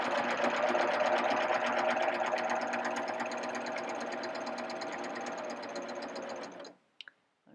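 A serger overlocker stitches a French seam, a steady, close, rapid mechanical whirring that runs for nearly seven seconds and then stops, followed by a couple of faint clicks.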